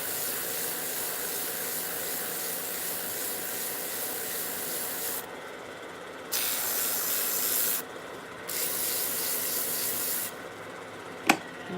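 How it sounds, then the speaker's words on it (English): Wood being lightly sanded, a soft steady scratchy rubbing that runs in long strokes with short pauses in between, close and moderately quiet, ending with a small sharp tap. "Ever so slightly gonna sand it."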